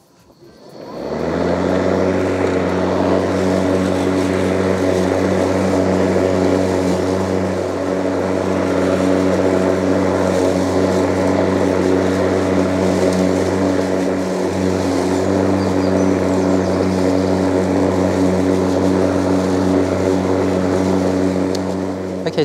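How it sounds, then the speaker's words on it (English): A Cobra RM43SP80V cordless lawn mower cuts grass on a front lawn at a 17 mm cutting height, giving a steady, loud motor whine with strong harmonic hum that runs continuously and close by throughout, with no talking. "I'll take the mower out onto the front lawn, take it down to 17 mil, and we'll test it there"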